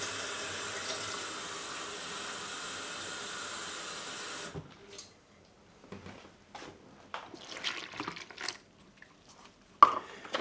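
Tap water running into a cup for poolish bread dough, a steady hiss of flow for several seconds that stops abruptly, followed by quieter clinks and handling sounds.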